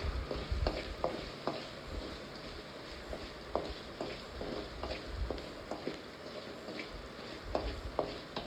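Ground pepper rice being stirred and fried in a pan: a soft, steady sizzle runs throughout, with irregular scraping and tapping of the spoon against the pan, close up and moderately quiet.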